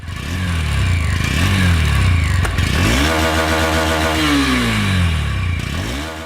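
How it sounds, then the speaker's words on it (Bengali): A Honda Hornet 2.0 motorcycle engine starts and runs loud and close, with repeated revs that rise and fall in pitch over a steady idle, alone without talk. "তো চলুন আমরা বাইকটি স্টার্ট করে দেখি বাইকটির সাউন্ড আসলে কেমন।"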